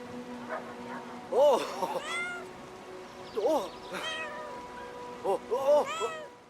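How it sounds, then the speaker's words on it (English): Cat in the video game Brothers: A Tale of Two Sons meowing several times, clear, close, drawn-out mews spaced a second or two apart over a quiet musical background. "Yeah, kitty. this cat really likes the younger brother."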